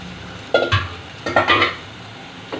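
Mixed fish pieces are turned with spices in a pan, giving two short bursts of scraping and clattering from a utensil, close and moderately loud over a faint background hiss.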